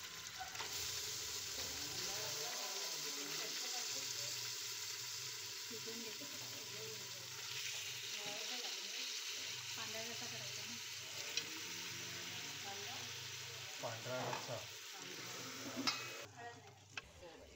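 Mutton is frying with golden-browned onion in oil, a close sizzle that rises as the meat goes in, with stirring scrapes and clinks against the pot and a few sharper knocks near the end.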